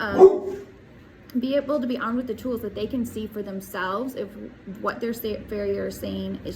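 Several dogs bark repeatedly in short, loud bursts close by, mixed with yips, while a person keeps talking over them throughout.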